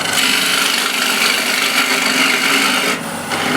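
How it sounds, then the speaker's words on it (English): A wooden bowl being hollowed out on a lathe with a big ball gouge, producing a loud, steady rasping shear of the cutting edge on spinning wood, close up, with a brief dip near the end. "And now hollowing out with a big ball gouge."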